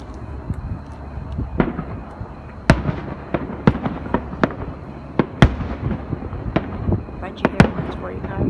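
Loud 4th of July fireworks finale, a rapid string of sharp booms and crackling bursts going off one after another, some near and some more distant, over a steady background rumble.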